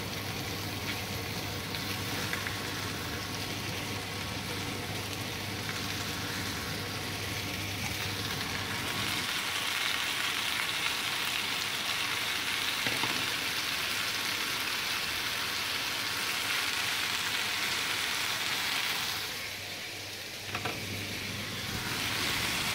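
Washed sawi putih hitting a hot pan of stir-fried chicken and sizzling loudly, a steady hissing crackle that swells and settles with a few stirring shifts, close and without talk.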